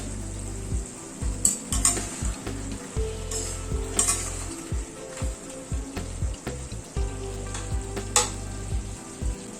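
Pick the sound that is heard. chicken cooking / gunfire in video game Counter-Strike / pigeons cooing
chicken cooking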